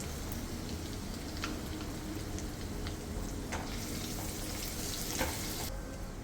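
Mustard seeds fry in hot oil for a Hogenakkal-style fish curry, giving a continuous soft sizzle with scattered pops and crackles. It runs fairly quiet, with no talking.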